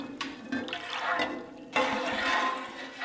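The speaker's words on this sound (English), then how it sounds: "we're gonna pour this in fairly quick and just get it all mixed in." Rennet poured quickly and stirred briskly into goat milk for Stilton-style blue cheese, a close, sloshing swirl of liquid with splashy surges, loudest in a second stirring burst.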